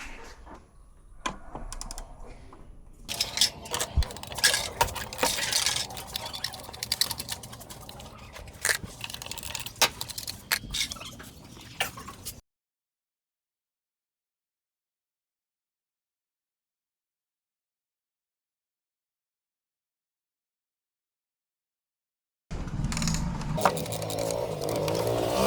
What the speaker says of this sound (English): These 4 bolts we need to take out, and once these are out, we'll be able to detach the throttle body